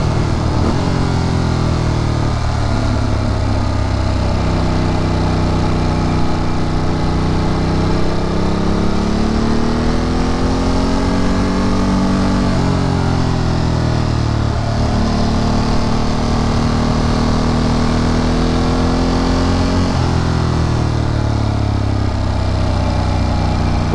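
A powerful dirt bike engine runs loud and close, idling with a steady rumble and then revving up and down in several smooth swells, with no voices.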